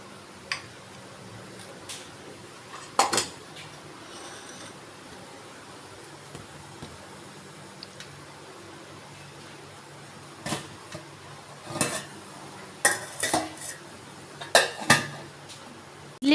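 A perforated steel pot for idli cooking is set onto a saucepan of hot water, making scattered sharp metallic clanks and taps that cluster toward the end over a quiet background.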